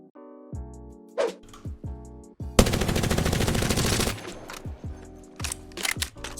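Prowler SMG fire in Apex Legends: a long, rapid sustained burst of automatic shots in the middle, framed by short clipped bursts and mechanical game sounds, loud and close with no talk.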